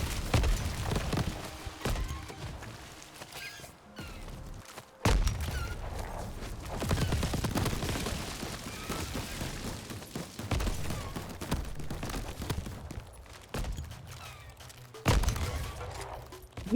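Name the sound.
enemies exploding on death in the video game Crab Champion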